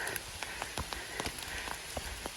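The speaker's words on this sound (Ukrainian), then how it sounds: "А дощ посилюється." Rain patters steadily on nearby surfaces in a young forest, with distinct drops tapping irregularly over a soft continuous hiss, fairly quiet overall.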